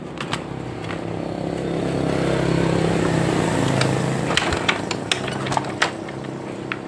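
A Yamaha Mio scooter with lost ignition being kick-started, a low mechanical churning that swells and fades without the engine catching, with scattered clicks and knocks near the end.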